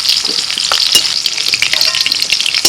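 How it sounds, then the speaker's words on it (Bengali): Capsicum pieces frying lightly in hot oil for a soya pulao with capsicum and paneer, a steady close sizzle with scattered pops and stirring scrapes throughout, no voices. "ক্যাপসিকামও একদম হালকা করে ভেজে তুলে দিচ্ছি"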